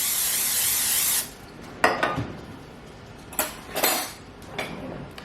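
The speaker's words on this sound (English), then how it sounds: "I'm just going to spray these really good with the olive oil spray." An olive oil spray can hisses in one steady burst over food being meal-prepped in a home kitchen, followed by several sharp clinks and scrapes of utensils against a dish; no voices.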